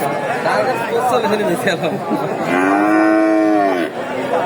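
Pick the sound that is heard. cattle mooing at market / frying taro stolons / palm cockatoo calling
cattle mooing at market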